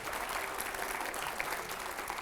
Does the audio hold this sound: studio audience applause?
yes